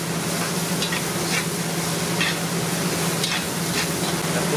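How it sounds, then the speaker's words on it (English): Carrots, celery and onions sizzle steadily in a pan with bacon, a close, even frying hiss with occasional scrapes of stirring. "I'm going to start adding all of our vegetables. So our carrots, celery, onions. And we're just going to cook these off"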